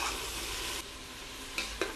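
Onions sauté in oil inside a 5-litre pressure cooker, with a steady broadband sizzle and a couple of brief scraping stirs near the end. There is no talk.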